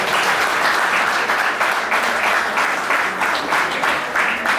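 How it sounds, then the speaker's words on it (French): Sustained applause from a union congress audience, steady and dense throughout with no voices on top. "je vous demande aussi de l'applaudir et de penser à elle"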